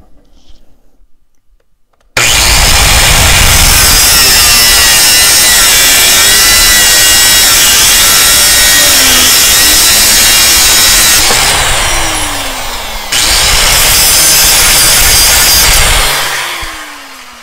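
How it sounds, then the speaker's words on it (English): A loud, harsh angle grinder whine as a cutoff wheel bites into a metal drill bit, running continuously for many seconds with a brief dip in pitch, then winding down. "So if you do have an angle grinder with a nice little cutoff wheel, it's definitely the way to go"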